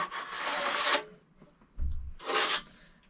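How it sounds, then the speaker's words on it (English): A trowel scrapes and slices through plaster on a hawk in two long, close rasping strokes separated by a brief pause and a soft knock. "So I'm cutting the plaster"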